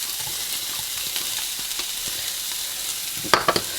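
Onion frying in a heated pan with Fry Light makes a continuous soft sizzle with faint crackles, ending in a few quick, sharp clatters of a utensil against the pan.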